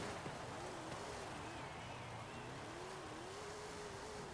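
A video game car engine whines and revs continuously, its pitch rising and falling as it accelerates and shifts, with a steady, fairly loud mechanical drone and no speech over it.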